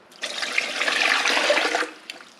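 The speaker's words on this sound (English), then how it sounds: "Add a couple inches of water." Water pours into a large pressure canner holding turkey necks, a short rushing splash that swells for about a second and a half and then tapers off.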